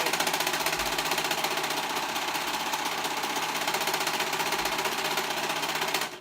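A serger stitches a neckband onto a sewn top, running at a steady fast rhythmic chatter with a mechanical hum, close and continuous, before stopping abruptly at the end.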